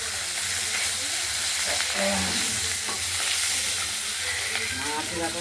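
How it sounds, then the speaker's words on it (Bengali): A rohu fish head fries in a pan of oil with a loud, dense, continuous sizzle up close, overlaid by intermittent stirring and spatter. "মাছটা করে সুন্দর করে ভাজা করে নেব।"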